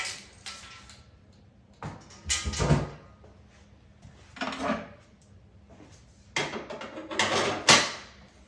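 The back door of a slot machine is taken off during a restoration, giving a series of wooden and metal clunks, knocks and scrapes that come in separate bursts. The sounds are close and fairly loud, and no one talks over them.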